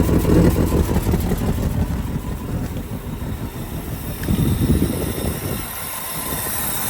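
A rough old car engine, running for the first time in over 20 years with exhaust leaking, idles steadily up close, with a low rumbling chug that swells briefly partway through.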